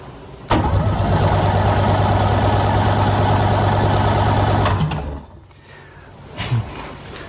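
A SeaDoo jet ski engine cranks continuously during a cylinder compression test, a loud steady mechanical churn lasting about four seconds close up, then stopping, followed by quiet shuffling and a brief clunk.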